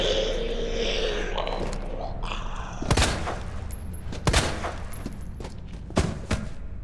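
Gunfire in the Resident Evil 2 video game: a few loud, separate shots spaced over several seconds, each a sharp crack with a booming tail, over a continuous rumbling game background.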